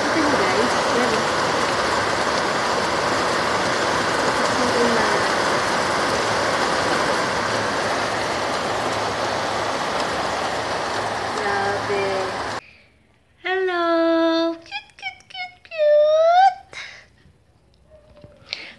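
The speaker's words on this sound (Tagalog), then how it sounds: "Rainy season na sa Pilipinas. Lakas, oh. Sa ulan." Steady, dense hiss of heavy rainy-season rain pouring in the Philippines for a long stretch, then cutting off to a few short bursts of talking.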